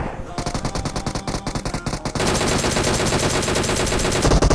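Rapid automatic gunfire in the PUBG Mobile shooter game, a dense stream of close, loud shots that quickens into a continuous burst halfway through.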